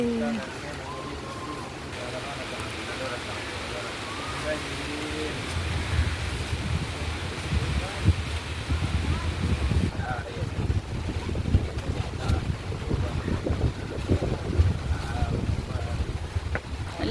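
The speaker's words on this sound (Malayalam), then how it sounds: "ഇവിടെയൊക്കെ നല്ല കാറ്റുണ്ട് കുട്ടികളെ" Strong wind roars and buffets the microphone, growing louder and gustier midway, while someone talks underneath.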